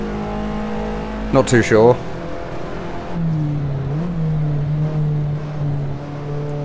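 Race car engine of an Alfa Romeo at Brands Hatch in the Assetto Corsa driving game, with a sharp burst of revving early on, then a steady lower drone, under someone talking throughout.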